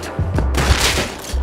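Several sharp, booming gunshots ring out in the survival video game Rust, spaced irregularly across a second and a half, loud and close.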